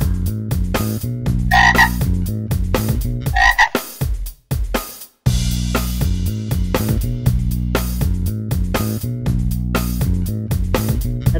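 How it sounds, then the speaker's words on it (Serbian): A frog croaks in two loud, rasping bursts, then goes briefly quiet while cheerful background music keeps playing; no one speaks. "Žaba."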